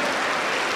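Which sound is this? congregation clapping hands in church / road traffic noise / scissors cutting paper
congregation clapping hands in church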